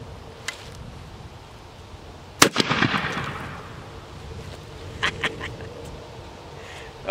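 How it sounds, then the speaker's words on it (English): A shotgun converted to a muzzle loader fires slingshot ball bearings at a pumpkin outdoors. One sharp, loud blast rings out and decays, followed by a few fainter clicks and small knocks in otherwise quiet surroundings. "Go ahead and take another shot at that pumpkin."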